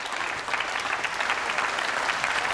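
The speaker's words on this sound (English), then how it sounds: "The crowd has put their hands together for that cut." An audience at the 2003 World Pool Championship final claps steadily after a cut shot, a dense, even patter of applause from a moderately distant crowd, with no voices over it.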